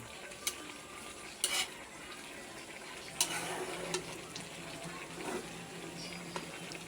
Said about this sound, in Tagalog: Halo-haluin muna natin.